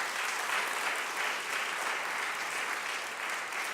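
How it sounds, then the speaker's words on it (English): An audience at a mayor's press conference for a Big Brothers Big Sisters annual luncheon claps for the event staff, giving a steady, dense wash of applause from many hands held throughout, with no voices over it. "Can we give them a round of applause, please?"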